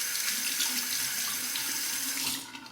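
Steady rush of tap water running into a sink to rinse a Parker semi-slant safety razor, close and constant for most of the time, cutting off abruptly near the end.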